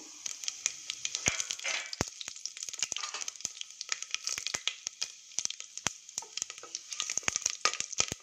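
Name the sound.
whole spices (cinnamon, cloves, fennel, mace) frying in pan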